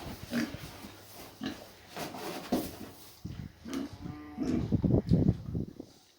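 Farm pigs in a barn, grunting and snuffling close by in short irregular bursts, growing louder and busier toward the end.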